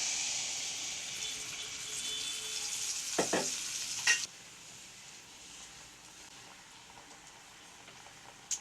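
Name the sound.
seeni paniyaram batter frying and sizzling in the pan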